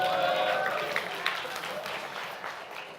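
Conference audience applauding and cheering during a talk on emerging economies, a moderate wash of clapping and cheers that slowly fades over three seconds, with someone speaking over it.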